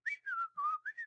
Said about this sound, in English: It's just whistling